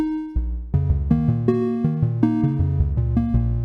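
DNA sonification music builds in layers, with a bass line and synthetic tones repeating at a quicker rate in rapid, regular note changes. It plays alone and prominently.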